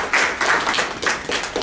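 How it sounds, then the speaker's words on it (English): A small audience at a public hearing gives a round of applause, a few close, uneven bursts of hand claps with short gaps between them. "Give yourselves a round of applause."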